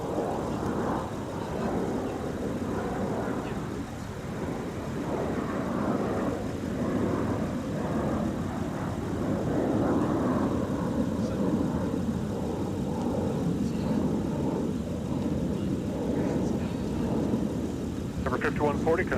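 A Delta airliner departs Minneapolis–St. Paul (MSP) airport during the post-holiday travel rush, a steady broad jet rumble lasting the whole stretch beneath ongoing talk and radio chatter.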